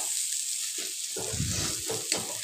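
Egg bhujia sizzles in a wok under a steady hiss, broken by several scraping strokes of a spatula as it is stirred and lifted from the pan's sides.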